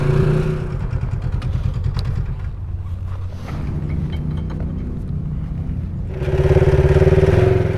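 A 250R dirt bike rides on the Silver Lake Sand Dunes, its engine buzzing steadily nearby, dipping in the middle and then revving up louder toward the end.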